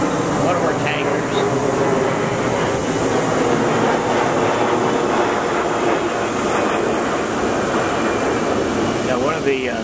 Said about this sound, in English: tankers from Forbes Field, which is, as I think most of you know, just a few miles from me, probably doing touch-and-go landings today